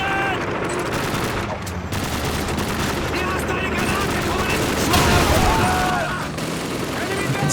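Rapid gunfire hammers at a tank in Call of Duty 2, dense sustained bursts with booming hits layered throughout, loud and continuous, while a voice speaks over the battle.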